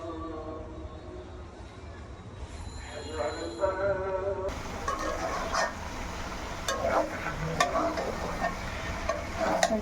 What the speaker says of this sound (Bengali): তো এখন এটা এইভাবে আমি ঢাকা দিয়ে দিয়ে ভাজি করে নেব।